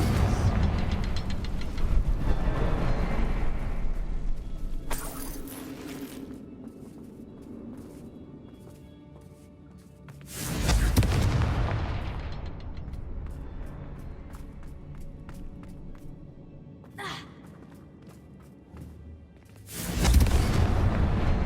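Confringo spell explosions in the Hogwarts Legacy video game, heavy booming blasts that burst loud, roll off into a rumbling decay, then strike again several times across the stretch.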